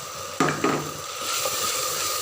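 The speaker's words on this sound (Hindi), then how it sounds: "ये देखिए अच्छे से मसाला भून रहा" Spice masala for an okra dish fries in a pan while a spoon stirs it, giving two sharp scraping strokes near the start and then a steady, close sizzle with no voices.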